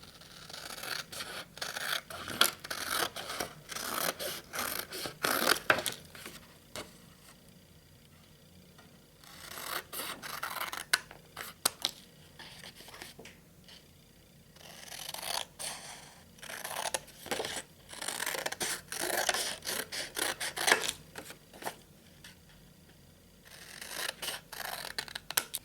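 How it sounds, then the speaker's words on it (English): Scissors snip repeatedly through paper while cutting out printed dominoes, trimming the edges in bursts of crisp, close rasping cuts separated by brief quiet pauses. "Here's how I have the students cut out the dominoes. First, cut off the edges"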